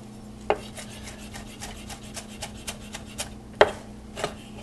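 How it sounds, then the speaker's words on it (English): Italian parsley being chopped on a board with a dull knife, giving a string of light, evenly spaced cutting taps with two sharper knocks, close and fairly faint over a low steady hum. "And we'll chop it up."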